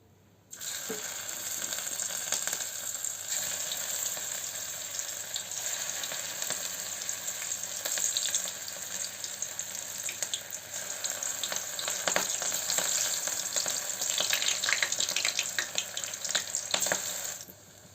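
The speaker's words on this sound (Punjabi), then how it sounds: "ਹੁਣ ਆਪਾਂ ਇਸ ਨੂੰ ਤਲਦੇ ਆਂ ਤੇਲ ਆਪਣਾ ਹੋ ਗਿਆ ਗਰਮ" Veg manchurian balls deep-frying in hot oil give a steady, dense sizzle and crackle that runs without a break for the whole stretch, close and fairly loud, with no talk.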